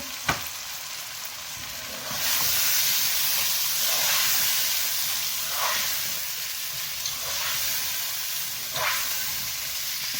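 Peas tip into a pan of sizzling capsicum and vegetables. A small clink comes first, then the hiss swells and a few stirring scrapes follow at intervals.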